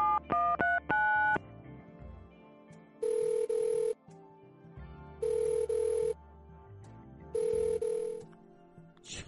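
A telephone is dialed with a quick run of keypad tones, then rings back three times in long, evenly spaced bursts with no answer, the line faint and clear with no voices.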